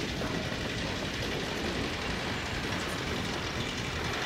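Train ride in the video game Half-Life 2, a steady dense rumble of rail carriage noise with broadband rattle, continuous and fairly loud throughout with no talking.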